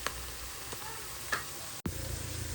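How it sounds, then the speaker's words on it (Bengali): Cumin, onion and chili sizzle in hot oil for a dal tempering cooked in Bangladeshi hotel style, a steady broadband frying hiss with a brief dropout near the end, then resuming louder. "এই যে ডালের পেঁয়াজ মরিচ ভাজা হয়ে গেছে, আমি জিরা দিয়ে দিছি"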